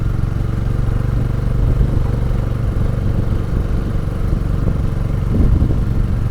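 A vehicle engine labours in low gear up a steep mountain road near Gangtok, Sikkim, a loud, steady drone with rattling and clatter throughout and no talk.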